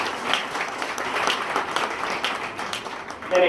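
Spectators at a county fair junior swine showmanship event give a sustained round of applause, a dense, fairly close patter that stays level and then swells slightly at the end.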